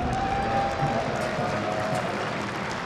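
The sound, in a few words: crowd applauding at IEM Katowice StarCraft 2 event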